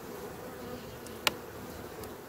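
Honeybees preparing for winter drone steadily at the hive, a faint continuous hum with one brief close buzz as a bee passes near.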